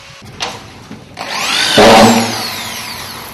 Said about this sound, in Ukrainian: Наразі тут демонтували старе покриття і зашивають стіни плитами.